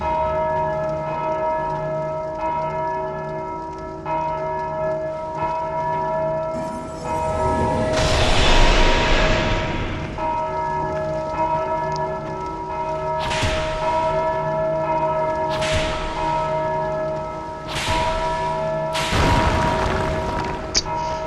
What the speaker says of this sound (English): Do I ring the bell?